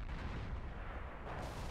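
A deep, booming tank cannon shot in World of Tanks rolls out with heavy low rumble, followed by a second duller thud near the end, amid game ambience.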